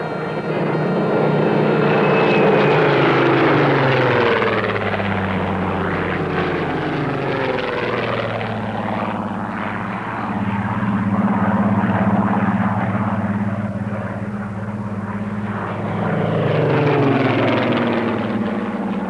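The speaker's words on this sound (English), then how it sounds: "a flypast by 2 aircraft from the Battle of Britain memorial flight" Two Spitfires of the Battle of Britain Memorial Flight fly past over Cairnsmore of Carsphairn, their propeller engines droning loudly and continuously, swelling and fading with shifting pitch as the aircraft pass overhead.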